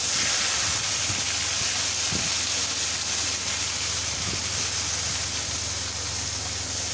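Onion paste sizzling in hot oil with a whole dried red chili and a bay leaf for Bengali doi katla, a steady loud hiss filling the whole stretch with a few faint clinks underneath.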